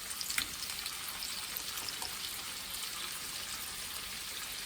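Renegade Butcher pork sausages sizzle steadily in a pan with a soft, even crackle of frying fat, fairly quiet, with no talking over it.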